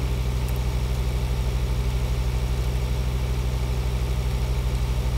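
Vehicle engine driving along a road in Landwirtschafts Simulator 2013, a steady, low, droning hum with an even pulsing throb, constant and moderately loud throughout, with no voices.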